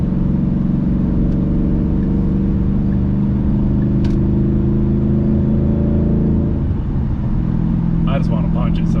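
A Ford Mustang with a Roush exhaust gives a steady, deep engine rumble that shifts in tone toward the end, with a brief voice near the close.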